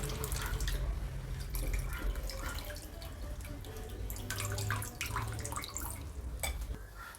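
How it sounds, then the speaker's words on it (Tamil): Water drips and trickles as soaked tamarind is squeezed and filtered by hand, irregular splashes and drops close by over a low background hum. "பிசைஞ்சு விட்டுட்டு நம்ம ஃபில்டர் பண்ணி கையிலே ஃபில்டர் பண்ணிக்கோங்க"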